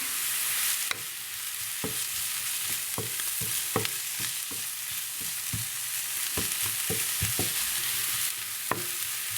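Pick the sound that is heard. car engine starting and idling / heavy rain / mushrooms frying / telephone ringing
mushrooms frying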